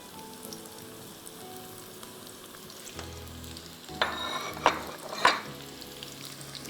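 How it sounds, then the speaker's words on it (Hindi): Chopped onions and cumin seeds frying in a pan, a continuous close sizzle that swells in the second half with several scraping stirs and clatters, no talking. "इसको आपको अच्छी तरह से फ्राई करना है। गोल्डन करना है"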